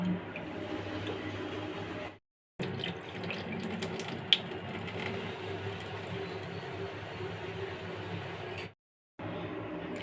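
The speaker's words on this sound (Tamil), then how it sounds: "ஒரு 2 தடவை நல்லா அலசிட்டு அப்புறம் போட்டுக்கலாம்." Water runs and sloshes steadily as lentils are rinsed, with two brief silent gaps; close, moderate level, no speech.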